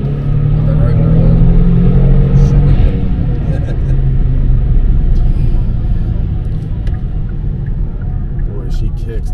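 A modified 2023 Kia Stinger GT2 accelerating hard, with a loud deep engine rumble and rising drone that eases off after a few seconds, heard from inside the car; a faint turbo whistle sits on top.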